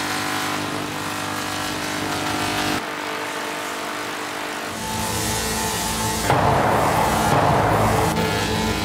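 A car accelerates and drives on, its engine note building steadily with a gear change and a harsher surge near the end, loud and close, no talk.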